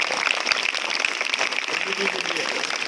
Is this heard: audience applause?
yes